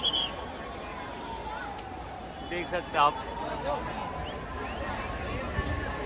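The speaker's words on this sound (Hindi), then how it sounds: "काफी ज्यादा भीड़ हो गई है" Dense, steady hubbub of a huge crowd packed along a jammed street at Nariman Point in Mumbai, gathered to welcome the Indian cricket team, with someone talking close by over the din.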